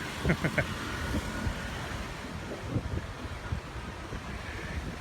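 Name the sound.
wind at the beach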